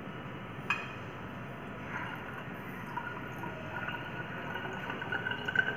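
Water is poured from a beaker into the neck of a volumetric flask during a KMnO4 titration: a steady soft trickle with a sharp glass clink near the start and faint drips toward the end.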